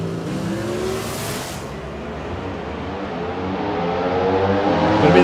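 NHRA Pro Stock drag cars on the ZMAX Dragway strip during final qualifying at the four-wide nationals, a sustained engine roar heard from a distance, thinning out and then building louder toward the end.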